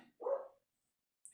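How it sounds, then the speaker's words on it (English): A single faint, muffled bark sounds from a distance, followed by silence and a brief sharp click. "sorry if you hear my dogs barking"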